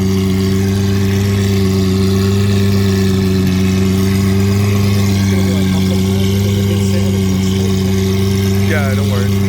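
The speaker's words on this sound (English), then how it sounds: "Let's get some revs out of it, man." Lamborghini Centenario Roadster engine running close by in a steady, rich droning tone with little change in pitch, while voices talk over it.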